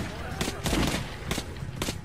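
Gunshots ring out in the video game Metro Last Light: several sharp bursts spaced irregularly across a couple of seconds, fairly loud, with someone talking in Spanish over the shooting.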